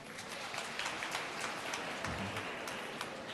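A church congregation at a homily claps in a sustained wash of applause, a dense crackle of many hands that stays fairly even for a few seconds, with no voices over it.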